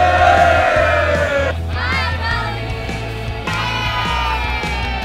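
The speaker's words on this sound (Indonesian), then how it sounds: "para supporter pun rela mengantri sambil bersorak-sorak membakar semangat semua yang ada di sana" Supporters at a high school basketball game in Bali cheering and yelling loudly together, a dense crowd roar with rising shouts and whoops, close by and continuous.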